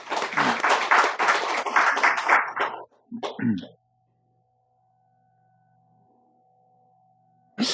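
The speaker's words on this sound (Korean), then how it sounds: "박수로 맞이하겠습니다." A church congregation gives a burst of applause for a pastor, dense clapping for about three seconds that breaks off, a brief second flurry, then near silence with a faint tone.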